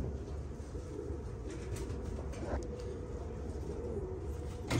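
Kakite pigeons cooing softly nearby, low repeated coos set against a constant rumbling background hum, faint and unobtrusive.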